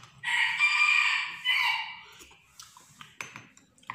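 A sick rooster crows loudly and close, a long strained call followed by a shorter broken tail, then a few soft clucks and small clatters trailing off, with no talk.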